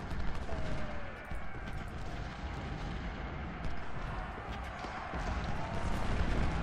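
Civil War battlefield artillery and massed gunfire in Ultimate General: Civil War, a dense continuous rumble of distant cannon booms and musket crackle, steady throughout with no talk.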